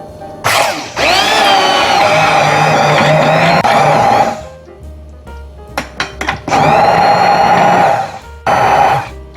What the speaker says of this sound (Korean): 이런 작은 양은 핸드 블렌더를 이용하는 게 좋고요